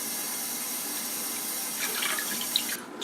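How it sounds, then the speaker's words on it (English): Cold tap water pours steadily into a large pot, a constant close splashing rush that stays even throughout and sputters briefly near the end. "I'm just going to start out by getting some cold water into this large pot"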